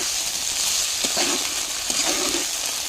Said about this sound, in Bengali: তারপর দিয়ে দিলাম ঢ্যাঁড়সটা, দিয়ে একটু নেড়ে নিতে হবে